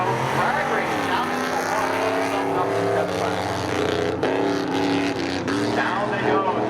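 At Seekonk Speedway spectator drags, race cars including an '88 Camaro roar off the line in a loud, sustained, rising engine drone, with an announcer's voice running over it.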